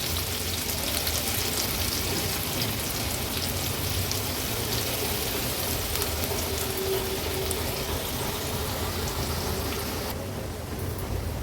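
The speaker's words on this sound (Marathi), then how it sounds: "कांदा व्यवस्थित तेलावर शिजवून घ्यायचा आहे।" Medium-sized chopped onion cooking in hot oil in a pan, a dense continuous sizzle and crackle that stays loud and steady for the whole stretch, with no one talking.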